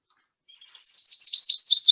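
A willow warbler sings in a Finnish forest, a close, clear run of high sweet descending notes in one continuous phrase after a brief silence.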